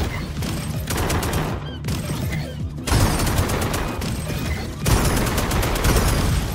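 Video-game gunfire in Akimbot rattles in rapid, continuous bursts, dense and loud, with brief pauses between volleys.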